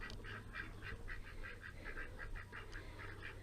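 Outdoor chickens on a muddy farm give a run of rapid, fairly regular squawking calls, about a dozen in quick succession, heard at moderate distance over a low background rumble.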